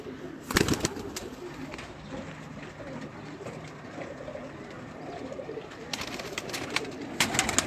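Breeder pigeons coo continuously inside a loft, overlapping calls near and far with occasional sharp bursts of wing flapping or scuffling at the start and again near the end.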